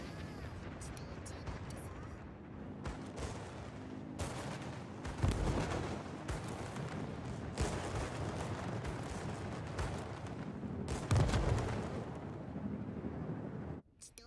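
Bombs striking a warship's citadel in World of Warships, dropped by a Hosho carrier's aircraft against heavy anti-aircraft fire: dense continuous rumble of gunfire and blasts with two heavier booming impacts standing out.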